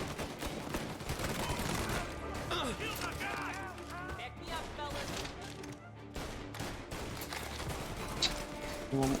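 Shotgun blasts in the Mafia 1 video game fire repeatedly through a busy gunfight, mixed with other gunfire and steady talking over the top.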